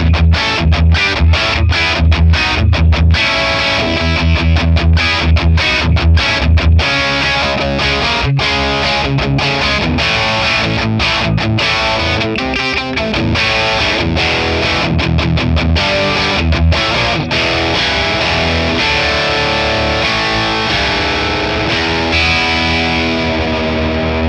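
Electric guitar played through a Friedman Plex amp model with the reverb switched off: loud, heavily distorted riffs with chugging palm-muted bursts and sustained chords, dry and close, with no talking.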